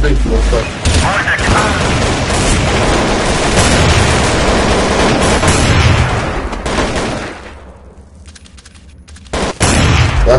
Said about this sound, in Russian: Бойся, кидаю гранату.